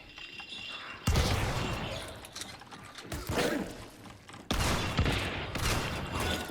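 Rapid gunfire bursts in the online shooter Hunt: Showdown during its Devil Moon event, loud and close with sharp onsets and sustained noisy volleys, mechanical clatter between shots and no talk.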